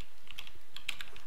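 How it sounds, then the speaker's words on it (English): Quick keystrokes on a computer keyboard as a name is typed, a short burst of light, uneven clicks close to the mic with no voices. "type his name here, David Eagleman"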